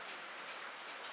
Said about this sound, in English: that's the sound of rain hitting a tin roof